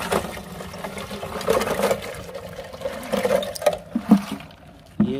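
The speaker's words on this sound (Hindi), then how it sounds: "चलो मैं इसमें एक बार डालता हूँ पानी" Icy water from melted snow is poured into a container outdoors in Spiti, heard as a moderately loud, uneven splashing and trickling stream with small surges, and no talking.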